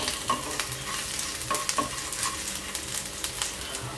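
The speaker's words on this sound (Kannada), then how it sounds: "ಈಗ ನಾವು ಇದಕ್ಕೊಂದು 15 ಕಾಳು ಮೆಣಸನ್ನು ಹಾಕ್ಕೊಳ್ತಿದ್ದೇವೆ. ಇದನ್ನು ಸಹ ಸ್ವಲ್ಪ ಫ್ರೈ ಮಾಡ್ಕೊಳ್ಳಿ." Black peppercorns fry in a pan for crab sukka, giving a steady crackling sizzle with occasional sharper pops and spatula scrapes, close and fairly loud, with no voices.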